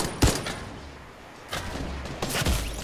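Gunshots crack in the Fortnite video game, three separate sharp bursts spaced about a second apart, close and loud against quiet game ambience.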